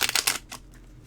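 A deck of Dark Wood tarot cards riffles and slaps together in a few quick, close bursts, then a softer brush, with a quiet pause after.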